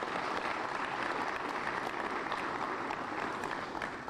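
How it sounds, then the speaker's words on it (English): An audience at a public news event in a hall applauds, an even wash of many clapping hands heard from a distance, steady and fairly faint throughout. "So please give them a round of applause as well."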